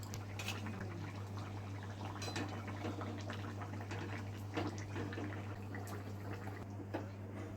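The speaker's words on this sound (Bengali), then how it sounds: "মাছটাকে অল্প একটু ফুটিয়ে নিয়েই ঝোলটাকে নামিয়ে নিল।" Fish and drumstick (sajna danta) curry bubbles gently in a pot, a steady close simmer with scattered soft pops and drips over a low constant hum, no talking.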